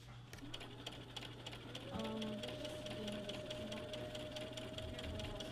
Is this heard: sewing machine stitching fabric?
yes